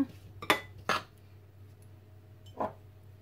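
Sugar being stirred into a dish with a metal spoon: a few separate clinks of utensil against crockery, two close together near the start and one more after a pause, over a low steady hum.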